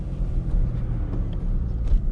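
A 1984 Pontiac Fiero with a manual gearbox pulls away in first gear, its engine a steady low rumble heard from inside the cabin, close and continuous for a couple of seconds.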